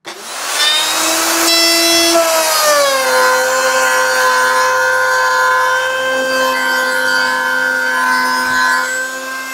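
A DongCheng DMR02-12 electric router cutting wood gives a loud, steady high-pitched whine that spins up, dips slightly as the bit bites in, then holds a continuous grinding tone close by.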